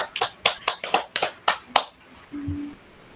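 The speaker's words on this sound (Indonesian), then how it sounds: "kita kasih tepuk segi empat dulu buat Kak Irfan" A group claps out a short rhythmic 'tepuk segi empat' cheer, about seven sharp, evenly spaced claps in quick succession, then a brief faint tone and quiet room noise.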